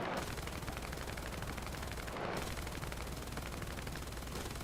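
Continuous rapid machine gun fire from a Ju-87 B-2 Stuka aircraft in War Thunder rattles throughout, dense and loud, with a brief pause near the middle before the firing resumes.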